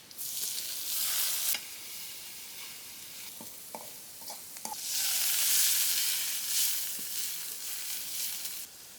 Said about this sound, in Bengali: চিংড়ি মাছ ভাজার জন্য